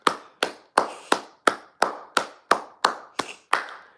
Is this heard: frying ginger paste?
no